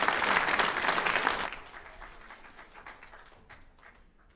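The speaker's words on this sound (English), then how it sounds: "let's give another round of applause for Mentone girls in their string ensemble" An audience applauds a school string ensemble at a concert, with dense clapping at first that quickly thins and fades to scattered claps.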